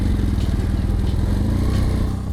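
A BMW adventure motorcycle engine runs with a steady, close, throbbing low rumble and fast regular pulsing, loud and unbroken throughout.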